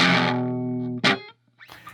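An electric guitar through a Donner Extreme Driver distortion pedal rings out a sustained gritty chord, then a sharp muted strum and a brief decaying note before near silence.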